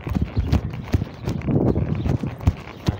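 Hooves of a ridden horse clip-clopping on the ground, a close, loud, uneven rhythm of thuds with a little background rumble and no talking.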